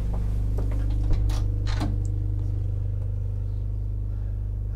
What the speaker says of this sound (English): You might be able to hear a hum in the background. That's a generator.